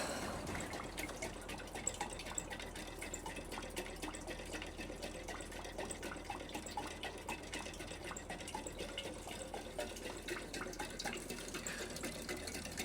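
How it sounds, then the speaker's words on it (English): Heinrici hot air stationary engine pumping water gives a faint, steady splashing trickle with soft, irregular ticks and drips close by and no voices. "Well, there she is pumping."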